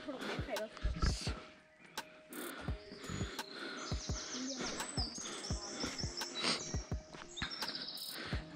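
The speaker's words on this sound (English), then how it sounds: "the sound of birds really make this weather pleasant" Birds chirp and sing in a forest at Kaitersberg, Germany, with repeated short calls scattered throughout at moderate distance, while people speak and faint thumps sound in the background.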